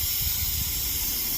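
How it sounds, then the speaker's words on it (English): Continuous loud hiss of air rushing through a venturi vacuum tool driven by a very small air compressor while drawing down a Hyundai Santa Fe cooling system, steady and close with no voices. "So I'm gonna restart my air compressor because it's a really tiny compressor."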